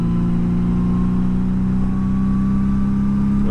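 A cruising motorcycle engine runs loud and close, holding a steady, smooth mid-pitched drone throughout.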